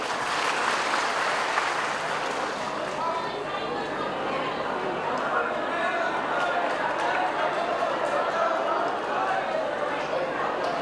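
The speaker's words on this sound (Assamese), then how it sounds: "ৰাইজে জোৰকৈ হাত চাপৰি দিলে বেছি" Crowd applause at an outdoor land patta distribution ceremony in Chapakhowa, Sadiya: a steady, dense wash of many hands clapping at a distance, continuous for about eleven seconds with faint chatter underneath.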